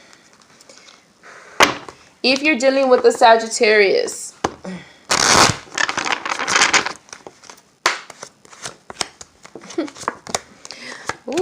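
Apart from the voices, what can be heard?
shuffling tarot cards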